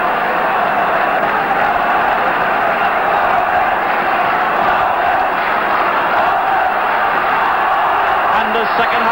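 A large crowd roars continuously at the 1983 Dublin v Cork All-Ireland hurling semi-final replay in Cork, a dense, loud wash of massed voices filling the stadium throughout.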